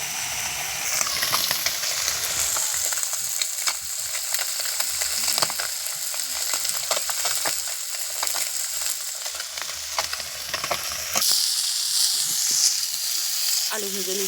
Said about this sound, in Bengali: আলু ভেজে নিচ্ছি।